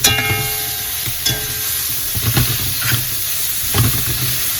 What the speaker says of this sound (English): I'm going to stir this pasta while we do that.